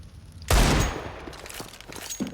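Gunfire in Counter-Strike 2 opens with one loud, sharp burst that rings and decays, followed by a few fainter scattered shots further off.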